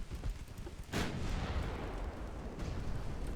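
Heavy warship guns fire in the naval battle game Ultimate Admiral: Dreadnoughts, with a loud booming blast about a second in and a second, softer report near the end, over a rumbling background.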